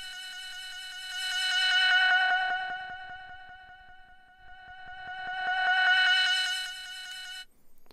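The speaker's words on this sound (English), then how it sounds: "let's switch the resonance off and hear a bandpass filter sweep" A Reason NNXT sampler plays a bright synth tone through a bandpass filter that sweeps up and down twice, the sound swelling and thinning in a vowel-like, almost meowing way, loud and alone.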